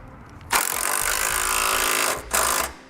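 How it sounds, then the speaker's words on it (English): Bolts on a bumper beam being run down with a power tool, one sustained, loud, close whirring burst followed by a brief second burst after a short pause. "we'll try to line up our bumper beam as close as possible to the outline where the bolts were originally, and we'll start by tightening those bolts down"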